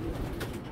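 Low cooing from a female Kitel pigeon, a racing bird, in a short, fairly steady murmur close by with no talking.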